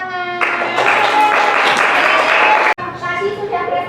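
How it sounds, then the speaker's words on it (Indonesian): Applause from a classroom audience at an Indonesian teacher performance assessment, a steady dense wash of clapping lasting about two seconds before a brief cut, with voices and tonal sound mixed underneath. "Kita berikan tepuk tangan."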